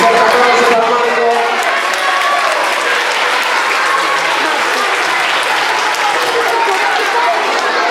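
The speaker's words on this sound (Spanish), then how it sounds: "Un fuerte aplauso para Marco." Children in a school audience applaud and cheer loudly at a poetry awards ceremony, a dense, steady wash of clapping and shouts that holds for the full length with no voice speaking over it.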